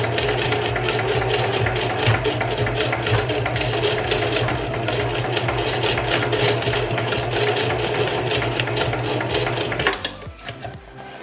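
A sewing machine back-stitches a frontal hair unit, running in a fast continuous mechanical whir at close range before stopping abruptly near the end.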